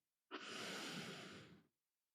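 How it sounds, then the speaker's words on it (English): A single deep breath is drawn in slowly, a soft airy inhale lasting about a second and a half. It is heard close and alone against silence. "So you take a deep breath in"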